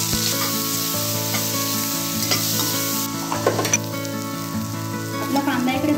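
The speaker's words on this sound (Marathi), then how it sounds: "आपलं तेल छान गरम झालं आहे, यामध्ये आपण 2 मिनिटे शिजलेले कांदे घालून घेणार आहोत." Onions sizzling and frying in hot oil in a pan, with steady, close crackling and occasional stirring scrapes throughout.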